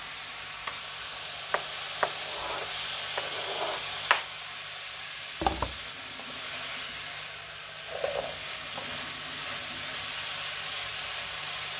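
A soft steady sizzle of food frying in a pan, with occasional clinks and scrapes of stirring, fairly quiet throughout.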